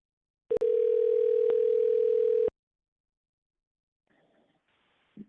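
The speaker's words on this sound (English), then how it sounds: "I'm about to dial you up right now" A telephone gives a single steady tone for about two seconds as a call is placed. Near silence follows, with a faint rustle at the end.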